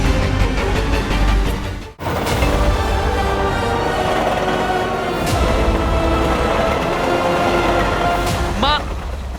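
A train rushes past loud and close, a steady heavy rumble with a sharp break near the start and a whistle-like squeal near the end, in a Hindi children's fantasy TV drama.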